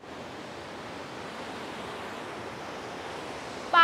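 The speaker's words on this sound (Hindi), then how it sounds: "पानी बहुत तेज है।" Fast-flowing river water near a temple, a dense, steady rushing roar that fills the whole moment at close range, with a brief sharp sound right at the end.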